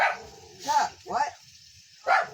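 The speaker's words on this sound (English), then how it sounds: "don't mind my dogs." Several dogs bark in short bursts near a cast iron stove during outdoor propane cooking, with three or four loud barks separated by pauses.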